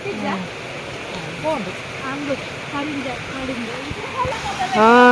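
A village waterfall rushes as a steady, loud wash of water, with people talking over it throughout.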